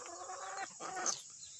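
A barnyard hen clucks and chatters close by, a short, quiet run of throaty calls rising into a higher squawk near the end.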